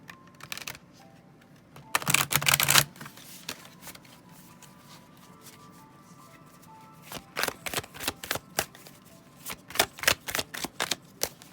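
Brisk, crisp riffling of tarot cards being shuffled, a loud burst early on, then a run of quick repeated snaps and flicks near the listener.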